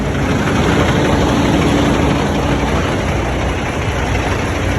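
A Swift Transportation semi truck's heavy diesel engine rumbles steadily at low speed as it pulls up, a constant, loud, low drone with no pauses.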